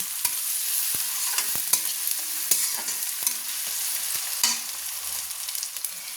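Kashmiri chilli powder being stirred into hot, frying masala for a hatchery chicken curry (mangsho jhol): a steady sizzle with repeated sharp spoon scrapes and clicks against the pan, close and fairly loud.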